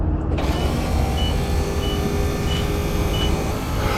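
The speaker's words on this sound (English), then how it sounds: "Let's turn the fuel pump on and see if it does anything." Electric fuel pump running in a Nissan 720 pickup truck, a steady loud mechanical whir and hum that starts abruptly and holds constant, close by.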